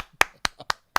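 A single person claps hands slowly and steadily, four sharp, close claps evenly spaced in an otherwise quiet room, like a lone viewer applauding at home.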